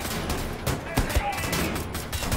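Gunfire from a shrapnel-type weapon in the PC shooter Wolfenstein: The New Order, several loud sharp blasts and bursts over busy game noise, with a person talking through part of it.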